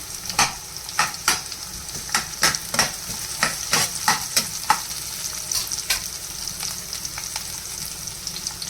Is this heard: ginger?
yes